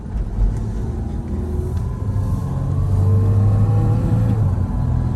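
A car engine revs hard with the accelerator floored on a road: a steady low rumble that swells and climbs in pitch as it accelerates, loud and close throughout, with no voices.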